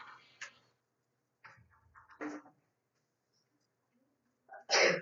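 A single sharp sneeze bursts out near the end, loud and close, after a few moments of quiet murmured talk in a math classroom.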